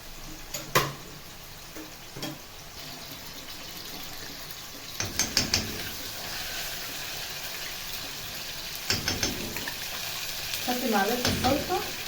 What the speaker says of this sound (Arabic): لما بتحط الصلصه على الزيت وهو سخن كده